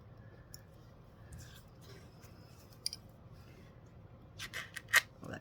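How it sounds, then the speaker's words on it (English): A few quiet scissor snips, close by, mostly clustered near the end after a stretch of soft background rustle. "I'll just cut it exact right from here."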